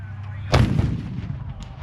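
A 25-pounder field gun fires at an outdoor display, a single heavy nearby boom whose rumble rolls on and fades over about a second, with a low background hum before it.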